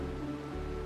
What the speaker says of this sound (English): This is the sound of rain.